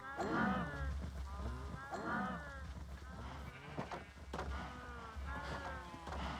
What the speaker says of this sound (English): So much cows.